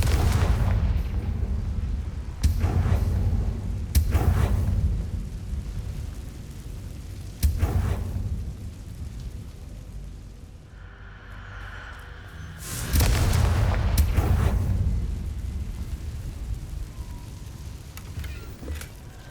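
Confringo fire spell explosions in Hogwarts Legacy, inside a haunted Hogsmeade shop: several heavy booming blasts spaced apart, each followed by a rumbling tail, with quieter stretches between.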